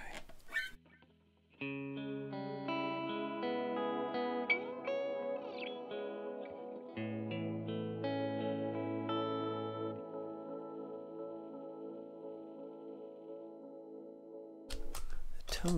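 Electric guitar run through a Walrus Audio Meraki delay pedal, playing sustained chords and melodic lines with echoing repeats and a lush modulated wash, steady and fairly loud from about 1.5 seconds until a brief noise burst at the end.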